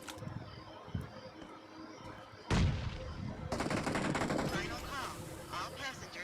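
Gunfire from the BGMI mobile battle royale game: a few scattered shots, then a loud sharp burst followed by sustained rapid automatic fire that carries on to the end.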